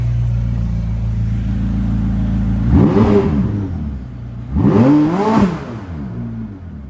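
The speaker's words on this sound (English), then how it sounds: "we're going to do the old lean out the car and give it some revs" A 2017 McLaren 570GT, silver, parked and warmed up, idles with a steady low burble before two sharp revs that climb and fall back, close and loud, then settles to idle again.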